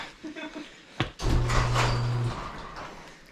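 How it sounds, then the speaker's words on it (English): A garage door opening in a home garage: a thump, then a steady motorized hum with rattling that runs for about a second before fading, close and moderately loud. "I'm opening up the garage door."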